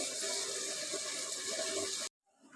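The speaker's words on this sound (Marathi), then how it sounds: "हे पाणी आहे ना, मी ह्याच्यात ओतते." Water pours steadily into a pot of spicy Marathi-style chicken cooking on the stove, a continuous close splashing flow that stops abruptly near the end, leaving near silence.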